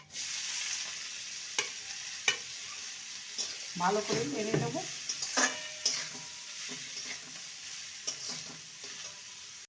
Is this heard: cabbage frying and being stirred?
yes